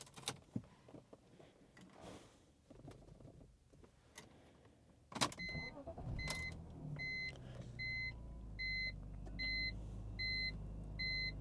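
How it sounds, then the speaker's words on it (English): A BMW wagon's engine turns over and settles into a low, steady idle, while a series of dashboard chimes beep in a regular pattern; the check engine light is on. "Let's start up the car."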